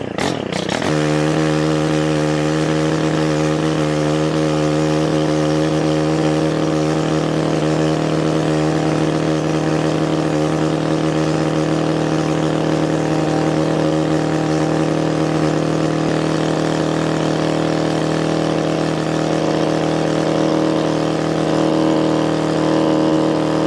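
A Stihl mini tiller's small gas engine runs close by, loud and steady, with a constant buzzing drone and a slight uneven pulse in its note throughout.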